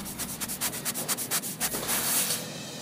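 A giant anteater sniffs in quick, rhythmic bursts, a series of breathy, brushing snuffles close to the ear that build into a longer rushing sniff near the end.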